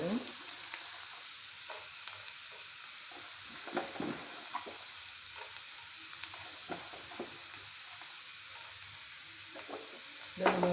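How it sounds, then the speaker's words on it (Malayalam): Urad dal and chana dal fry with mustard seeds in hot oil over low heat, giving a steady close sizzle with scattered stirring scrapes and small pops throughout. "തീ കുറച്ചിട്ടെ ഉഴുന്ന് പരിപ്പും കടലപ്പരിപ്പും ഇട്ട് കൊടുക്കുക."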